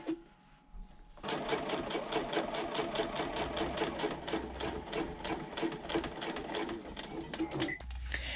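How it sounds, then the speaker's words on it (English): A sewing machine basts along the top edges of a handbag slip pocket, a steady fast rhythmic stitching whir of about seven seconds, close and clear after a quiet start, stopping briefly near the end. "I'm going to baste along the top here so that everything stays in place"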